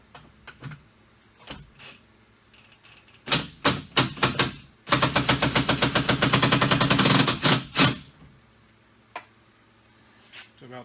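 An impact wrench fires several short bursts, then one long rapid rattling run, while tightening the bolts on a billet door handle on a Jeep Wrangler JK. It is loud and close, with a few quiet clicks before and after.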